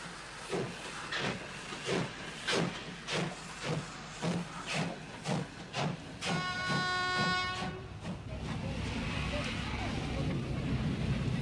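Rhythmic chuffing of a steam locomotive in Indonesia in 1971 beats steadily, joined by a sustained whistle, then gives way to a continuous rushing hiss of a running train.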